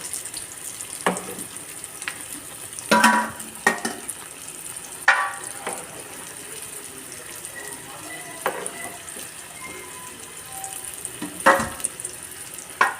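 Thattai rice crackers deep frying in hot oil give a steady close sizzle, broken by several sharper bursts and clatters as pieces are dropped in and pushed around in the pan.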